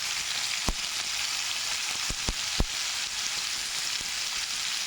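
Salted potatoes fry in hot oil, giving a steady, close sizzling hiss broken by a few sharp crackles and pops, with no voices.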